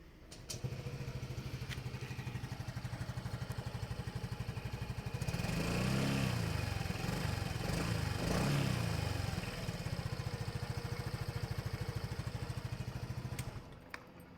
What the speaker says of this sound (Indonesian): Cuma mesinnya yang berisik gitu ya kan, ini kita dengerin ya.